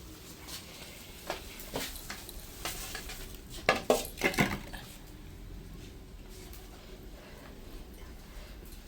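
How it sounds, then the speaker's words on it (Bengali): Prawns frying in banana leaf in a pan, turned over with a utensil: quiet background hiss broken by scattered scrapes and clinks, then a cluster of louder metallic knocks and scrapes mid-way before it settles back to a faint sizzle. "এখন আমি মাছ ভাজা নামাবো, নামাইয়া ওই পাশ ফিরে দেবো"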